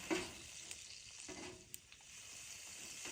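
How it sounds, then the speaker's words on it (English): Steady sizzling of biscuits frying in a hot pan over a campfire, a constant crackling hiss with a few sharp pops, no voices. "it's sizzling, which is a good sign that it's getting good and hot"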